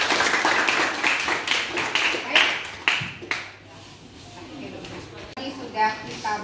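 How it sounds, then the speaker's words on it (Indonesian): A class or workshop audience claps for a presenting group in an indoor room, with dense overlapping claps and taps that fade partway through while voices talk underneath. "Sekali lagi aplaus untuk kelompok 1."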